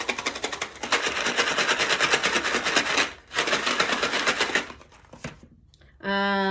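Homemade toilet paper roll noise makers filled with beans and noodles, shaken in steady bursts of dense rattling that pause briefly mid-way, then fade out before a voice cuts in at the end.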